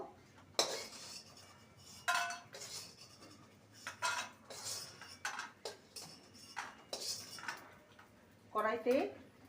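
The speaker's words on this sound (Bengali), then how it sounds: "বড়িগুলোকে ভেজে নিয়েছি এবার তুলে নেব" A metal spoon or slotted ladle scrapes and clinks in a pan while fried lentil dumplings are lifted out of oil, a series of sharp separate clatters with quiet gaps and soft sizzling underneath.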